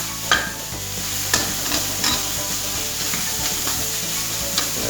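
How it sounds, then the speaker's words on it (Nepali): Onions for Tibetan-style keema noodles sizzle in a pan, close and steady, while a spatula stirs them in regular scraping strokes with occasional sharper clinks. "हाम्रो प्याज अलमोस्ट फ्राई भइसकेको छ।"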